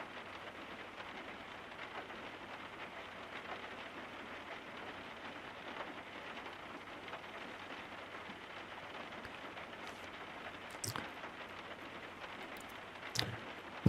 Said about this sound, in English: By the way, I love that rain sound.